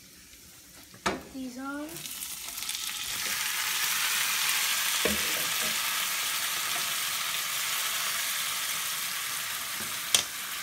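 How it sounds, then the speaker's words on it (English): Maitake (hen of the woods) mushrooms sauté in a pan with a steady, loud sizzle that swells after a brief spoken remark at the start, with a couple of faint clicks of utensils partway through. "And we'll get that sauteed up first."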